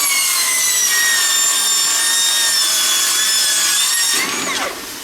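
A Milwaukee metal cutting saw whines loudly and steadily through metal close up, a high sustained buzz that holds for about four seconds before the blade spins down and fades.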